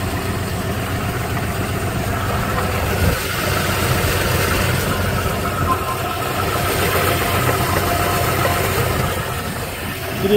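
A Yanmar AF222S tractor engine runs steadily at a moderate level as it is worked through its gears, a constant low mechanical drone with small shifts in tone and no voices.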